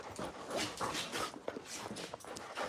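Excited dogs whimper and pant close by in a backyard, with rapid, breathy whines and snuffling in a continuous busy stream, moderately loud and without talk.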